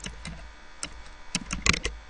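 Several separate bursts of keystrokes on a computer keyboard, clustered in short groups with brief pauses between them, close and fairly quiet with no voices.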